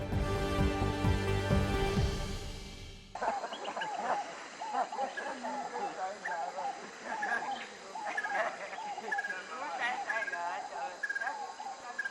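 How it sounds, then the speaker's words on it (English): Tropical jungle in Uganda, one of the most diverse forests, alive with a dense chorus of animal calls, chirps and croaks layered continuously over steady insect hum, after a brief opening musical sting. "That was the sound of the jungle of Uganda"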